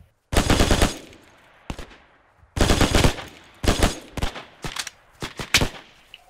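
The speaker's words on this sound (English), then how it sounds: "This fucking friendly shooting at us." Friendly soldiers' gunfire in the video game Hell Let Loose: loud, close bursts of automatic fire in several separate volleys with short pauses between them, no talking.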